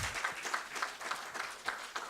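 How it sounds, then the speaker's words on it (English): Faint, distant round of applause from an inauguration audience in Ghana, a soft wash of many hands with gentle pulses, heard from far back in the hall. "Please, shall we give a round of applause?"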